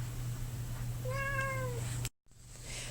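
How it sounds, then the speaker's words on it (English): A pet cat gives a single drawn-out meow, clear and close against a steady low hum, followed by a sudden dropout of sound. "that's my cat, say hi cat."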